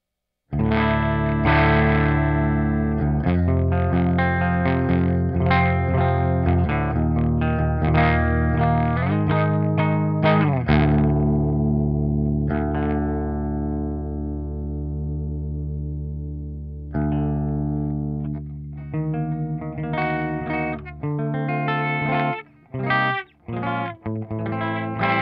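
A Jackson JS1X Minion electric guitar plays a clean tone with chorus-like effects, steady strummed chords and picked notes ringing out, with a quieter sustained passage mid-way before busier, choppy strumming returns near the end.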